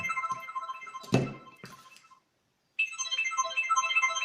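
A phone ringtone chimes in repeated electronic tones, broken by a solid thunk and a short pause, then rings again, fairly close and without talk.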